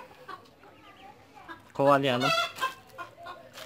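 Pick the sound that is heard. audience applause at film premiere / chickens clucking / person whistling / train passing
chickens clucking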